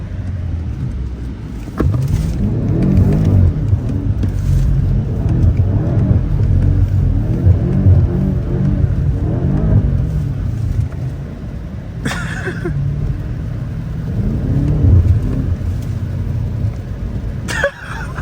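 A BMW F90 M5 making a U-turn in a pit, its engine rumbling low and close while it swells and settles, with brief sharp knocks and a cough-like burst along the way.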